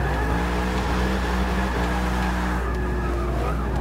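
A V8 Camaro built to over 600 horsepower in Forza Motorsport 6 drones loudly and steadily, with tires skidding under the engine note.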